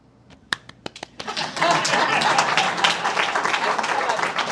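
An audience applauds after a speech: a few scattered claps build quickly into loud, dense, sustained clapping that fills the rest of the moment.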